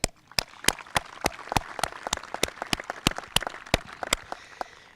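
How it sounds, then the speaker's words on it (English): Commencement applause where loud, evenly spaced claps ring out in a steady beat over softer scattered clapping from a small crowd. "Round of applause."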